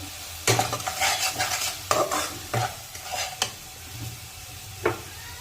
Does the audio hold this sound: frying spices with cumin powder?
yes